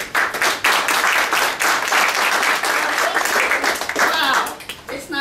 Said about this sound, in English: It's not often that I get an applause before my presentation.